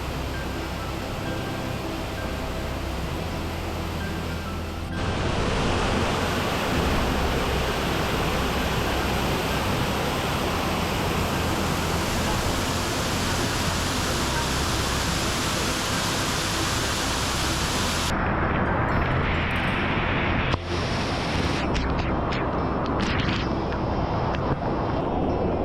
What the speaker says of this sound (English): The falls has a very strong raging sound, just like other waterfalls, and the water here is so refreshing.